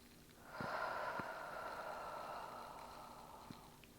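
A long, deep yogic breath during a Sun Salutation flow, drawn close and steady for about three seconds with soft airy texture and faint clicks at the start and end.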